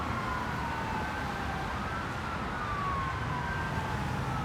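An ambulance siren wails along a Honolulu street, its rising and falling tone fairly distant and steady over a constant wash of traffic and city noise, with no voices over it.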